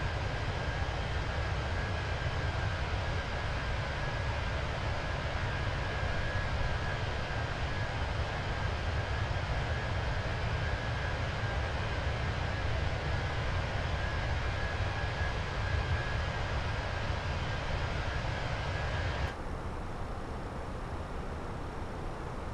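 Airbus A319 engines at cruise, 36,000 feet, in a flight simulator: a dense, steady cabin drone and rushing roar with a faint thin tone above, unchanging throughout, briefly dimming near the end, no voices.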